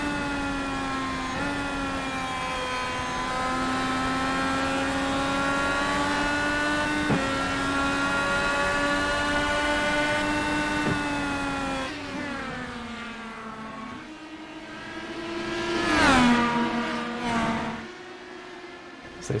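Race car engines at New Hampshire drone loudly as two cars run side by side, their sustained tones slowly rising and shifting, then briefly dipping before a sharp swell of revving as one passes close.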